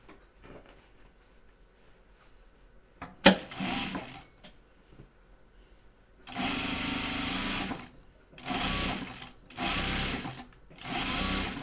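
Sewing machine top stitching fabric for a floor pouf: a sharp click, then three bursts of fast, steady motor whirring separated by brief pauses.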